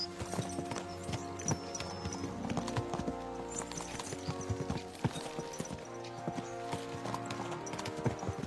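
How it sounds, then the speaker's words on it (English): Horses galloping in the video game Kingdom Come Deliverance 2, with steady rhythmic hoofbeats close by over a layer of background music. "Let's really spur these horses on, eh?"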